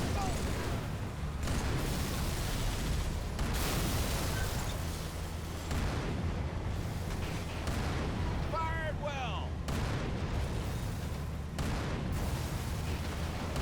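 Heavy booming blasts and rumbling explosions from a Wraith vehicle's fire in the Halo 3 mission The Ark, repeating every few seconds over a constant roar of battle noise, with a brief chirping effect midway.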